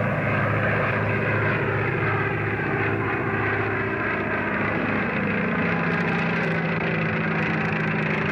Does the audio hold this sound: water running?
no